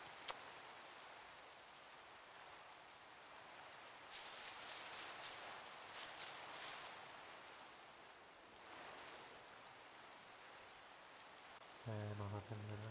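Steady rain hisses throughout, swelling in a few bursts, with a voice briefly speaking near the end.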